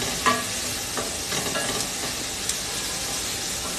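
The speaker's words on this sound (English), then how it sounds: "So we're going to be nicely sauteing this, okay?" Vegetables for a veg biryani sauté in a hot pan, with a steady close sizzle and occasional stirring scrapes throughout and no talk.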